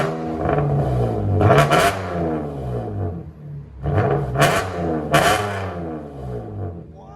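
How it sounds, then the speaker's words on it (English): Chevy Camaro 3.6L V6 with an Inomax race bullet exhaust revving up close: several loud, raspy throttle blips that sweep up and fall back, with a steady rumbling idle between them. "Sounds like a INOMAX race bullets, baby. Never disappoint. Give it gas."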